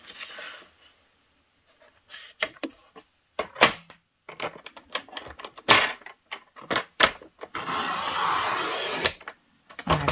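Sharp, crisp clicks and short snips as card stock is cut into a strip for a handmade spinner greeting card, followed by a longer steady scraping slide near the end; close and fairly loud with brief pauses between cuts.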